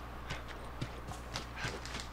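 Horse hooves clip-clop in The Last of Us Part II, a soft, fairly distant series of light irregular hoofbeats at walking pace over a steady low background hum.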